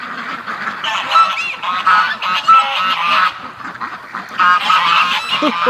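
A gray goose honks loudly and repeatedly nearby, a rapid, overlapping series of nasal calls with brief pauses.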